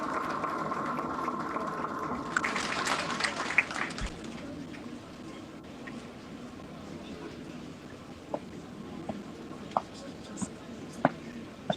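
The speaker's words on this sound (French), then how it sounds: "Sous vos applaudissements." Audience applause at a French police graduation ceremony for new officers, dense clapping from a crowd that swells and then thins out into scattered claps, with a voice over a public address system heard near the start.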